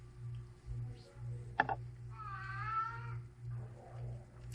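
A cat meows once with a drawn-out, wavering call in the middle, fairly close, over a steady low mechanical hum with a few clicks.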